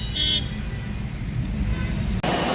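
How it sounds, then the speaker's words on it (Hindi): Dense road traffic in a Delhi jam, a steady low rumble of engines close by with a brief high horn toot near the start and another faint one later. "फंस चुका है रे ट्रैफिक में।"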